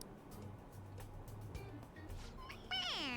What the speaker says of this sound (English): It meows when you press on its head.